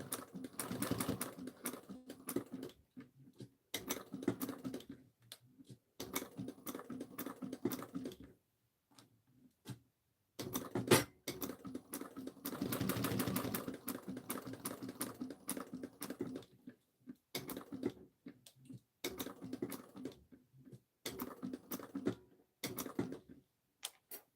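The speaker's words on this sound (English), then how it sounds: "But I still want to top stitch them this really pretty red." A sewing machine topstitching in red thread, rapid stitching bursts that start and stop repeatedly, close and moderately loud, with short pauses between runs.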